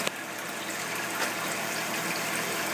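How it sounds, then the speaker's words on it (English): Water pours and trickles steadily from an aquarium algae turf scrubber's dump bucket onto the scrubber screen, a continuous quiet splashing wash with a brief louder surge near the start, no talking. "dump bucket that you'll hear dumping in the background"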